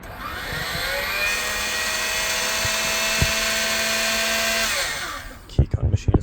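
A Makita-powered key cutting machine runs with a loud, steady high-pitched whine and buzzing drone for about five seconds, with a brief clunk midway, then winds down into a few scattered knocks and handling noises.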